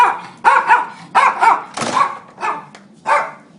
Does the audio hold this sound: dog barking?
yes